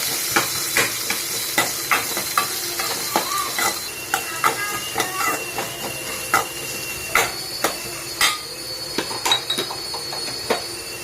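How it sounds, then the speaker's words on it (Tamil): Onions sauté in a pan with oil and popped mustard seeds for tomato sambar, a soft steady sizzle broken by irregular sharp clicks and scrapes of a spoon stirring against the pan. "வெங்காயம் வணங்குறதுக்கு கொஞ்சம் உப்பு போட்டுக்கோங்க. நல்லா வதக்கி விடுங்க."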